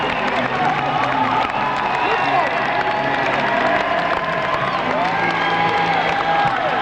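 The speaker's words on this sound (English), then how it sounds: "I believe you can hear, Harry, the ovation he is getting here from this tired but very gleeful crowd." A tired but gleeful election night rally crowd gives a sustained ovation, with steady dense applause mixed with cheering and whoops, loud and continuous throughout with no speech over it.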